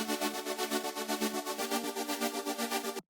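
Synth chords in a dark cyberpunk track pump rhythmically from sidechain processing, roughly five swells per second, with a slight drive grit; loud and alone, then cutting off abruptly at the end.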